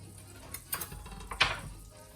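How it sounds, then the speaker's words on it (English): Butter and olive oil sizzle in a hot pot with vegetables, with a few clinks of a utensil against the pot, fairly quiet and close, no talking. "you hear that sizzle? Love that sizzle."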